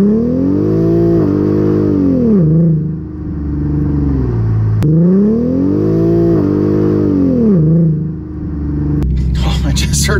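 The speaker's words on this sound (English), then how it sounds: "I'm really nervous in launching the car." Infiniti Q50 fitted with a limited-slip differential kit and new rear differential bushings launching twice, each a loud, close engine rev rising in pitch, then a dip and recovery, the second followed by clatter.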